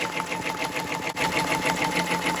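An embroidery machine sews a tack-down stitch on a sweatshirt or T-shirt, giving a steady fast mechanical whir with a regular rhythmic needle pulse, close and moderate in level.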